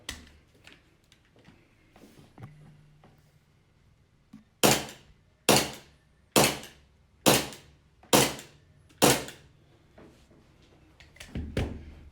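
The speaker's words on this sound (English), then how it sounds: "So first we're going to take a few shots of the target and just see how the chronograph works on this app." Six evenly spaced snapping shots from a Glock 18 airsoft pistol fired at a target, sharp and close, following quieter handling clicks, with a faint rustle after.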